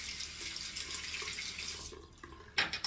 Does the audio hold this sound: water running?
yes